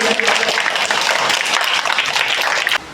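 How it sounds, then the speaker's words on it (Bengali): Loud, dense applause from a gathered crowd rolls on continuously with scattered sharper claps, then cuts off abruptly near the end. "জোরে হাততালি"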